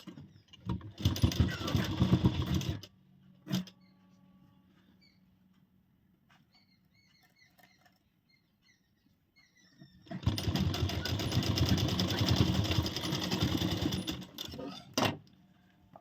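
A sewing machine stitches blouse fabric in two bursts of steady whirring, one of about two seconds and a longer one of about four seconds, heard close with a quiet pause between them.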